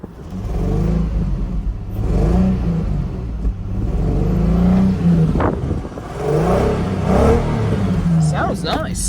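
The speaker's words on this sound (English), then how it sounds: "let's give it some revs" A 2004 Infiniti G35 rear-wheel-drive engine revs up in several loud, rising and falling bursts with a rich exhaust note, heard up close.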